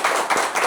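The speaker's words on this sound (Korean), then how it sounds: "박수로 좀 맞아주세요" Audience applause welcoming a speaker at a political lecture event, a brief burst of dense, close clapping from many hands.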